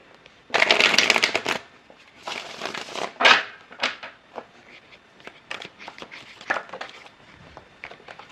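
Playing cards are shuffled up close in a series of rapid riffling bursts, followed by softer taps and flicks of the deck.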